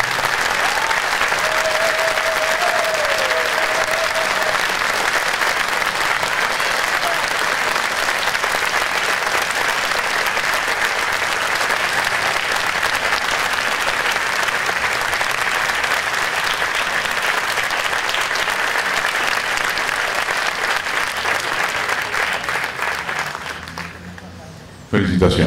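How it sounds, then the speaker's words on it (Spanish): A crowd at a swearing-in ceremony for the Miraflores municipal council gives sustained, loud applause, a thick continuous roar of clapping lasting over twenty seconds before fading near the end, with a brief voice faintly heard early on. "voy a pedir que todos ustedes brinden un fuerte aplauso al Consejo Municipal de Miraflores"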